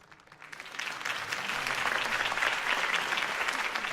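A video game crowd breaks into steady applause that swells in over the first second and keeps going at an even, full level.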